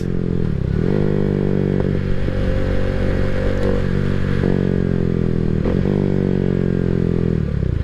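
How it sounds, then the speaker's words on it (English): A motorcycle fitted with a Leo Vince exhaust and tuned intake runs continuously, a loud, deep, steady engine drone with slight pitch wavers, heard close and alone throughout. "the bike's running great"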